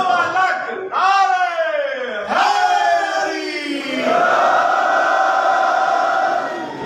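A Pashto Shia matam gathering's crowd shouting slogans back in unison, loud drawn-out massed voices rising in repeated surges, close and filling the space.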